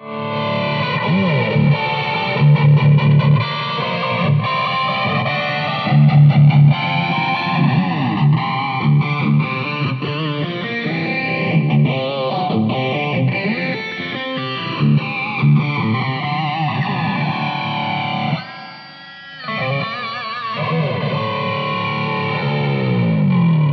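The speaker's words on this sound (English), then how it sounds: "just because I found a flanger, and it sounds bloody good through this thing" Distorted electric guitar through a Marshall Code amplifier with a sweeping flanger effect, its tone whooshing up and down in a jet-like swirl as chords and riffs are played.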